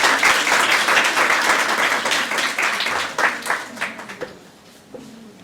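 A seminar crowd at Punjab University's Hailey College gives a speaker a loud, dense round of applause that thins into scattered claps, with a voice speaking as it dies down.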